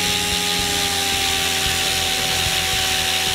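A Goblin 500 RC helicopter's electric motor spins at idle-up speed, giving a loud, steady, droning whine with a constant tone throughout and no voices.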